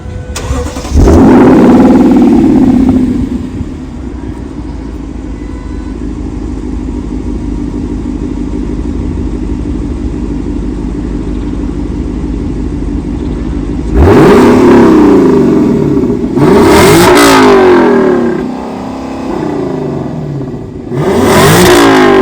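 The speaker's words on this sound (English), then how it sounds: "I believe the car's gonna start just in normal mode, and then we'll rev it so you can hear it" A Lexus LC500 with a naturally aspirated 5-liter V8 starts with a loud burst, settles into a steady idle rumble, then gets several sharp, loud revs toward the end, close by.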